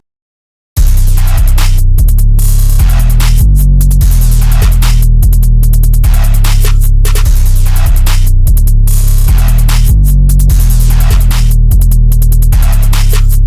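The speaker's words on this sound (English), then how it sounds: "here's what all the drums sound like together" A hip-hop drum pattern with booming 808 bass hits, snappy drums and quick, unusual hi-hat rolls loops loud and steady throughout, with no voices.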